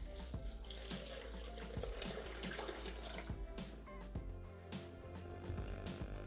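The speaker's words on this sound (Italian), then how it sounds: "L'acqua di cottura degli scampi filtrata." Filtered shrimp cooking water poured into a Thermomix TM6 bowl during preparation of scampi risotto, a steady continuous pouring splash running close and moderately loud throughout, with no talking.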